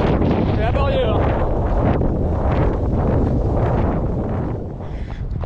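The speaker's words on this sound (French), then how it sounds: "Les petits vents de face en même temps." Gusty headwind roars and buffets the microphone of a runner climbing uphill during marathon training for Berlin; a loud, continuous rumble with rough low-end flutter that eases slightly near the end.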